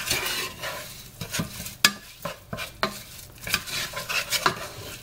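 Lentils, oil and spices such as turmeric and red pepper are stirred together in a pot, giving repeated scraping strokes and clinks of a utensil against metal over a light sizzle, close and uneven.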